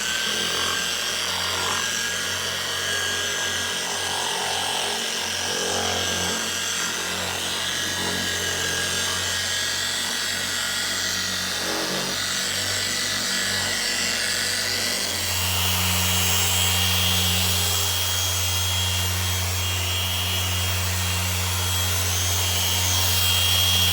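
A power polisher with product dabbed on its pad buffs a headlight at low speed, a continuous close whirring drone with a rubbing texture that steps up in intensity partway through, no talking.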